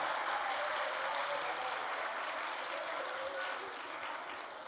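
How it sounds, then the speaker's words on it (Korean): An audience at a history lecture claps in a dense, steady round of applause that fades slightly toward the end. "박수 다 해주세요"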